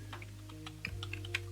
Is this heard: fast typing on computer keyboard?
yes